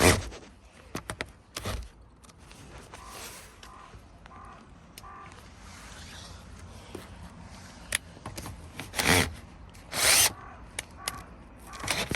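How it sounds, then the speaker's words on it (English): A power screwdriver drives a screw back into the interior trim of a Vauxhall Astra K, with short buzzing whirs in bursts amid handling clatter, close and moderately loud, with no talk. "And now just to screw this back on."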